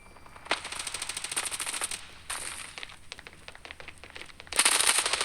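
Rapid bursts of gunfire in the video game Standoff 2, automatic rattling volleys broken by short pauses, loud and close with a final intense burst.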